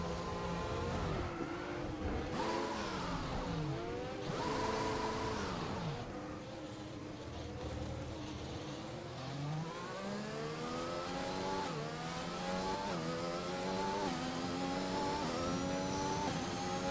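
A Formula 1 race car engine in a racing video game, revving high and continuously, pitch sweeping up and down through gear changes, loud and close throughout without voices.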